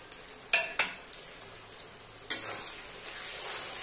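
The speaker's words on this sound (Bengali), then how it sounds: "দেখো পেঁয়াজটা হালকা ভাজা হয়ে গেছে" Onions sizzle steadily in a pan, a close hissing fry broken by a few sharp clinks and scrapes of stirring.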